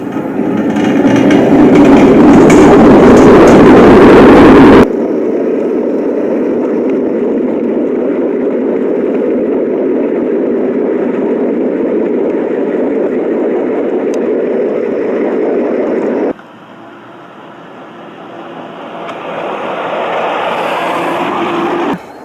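A small battery-powered model garden railway train rumbles steadily along its track, loud and continuous, with a brief louder stretch at the start and a shift in tone near the end.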